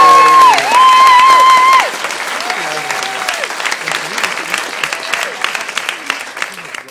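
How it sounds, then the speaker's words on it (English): Audience at a Dragon's Pen book event applauds and cheers as George Anderson is called up, loud clapping and whoops mixed with lively crowd noise, opening with a sustained shout that drops into continuous applause. "Huge cheer for George Anderson."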